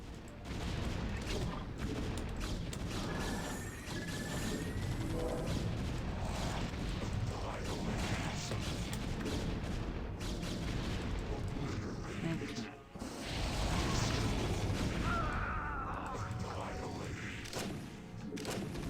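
A StarCraft battle with units fighting, a continuous loud wash of rapid weapon fire, thuds and explosions lasting throughout, with a brief dip before the clash swells again.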